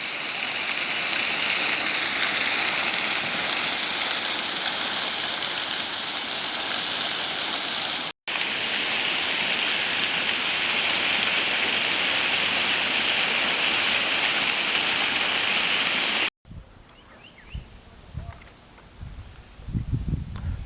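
A waterfall beside the Great Allegheny Passage trail along the Allegheny River roars as a steady, broad rush for most of the clip, then cuts to quieter outdoor ambience with faint scattered sounds.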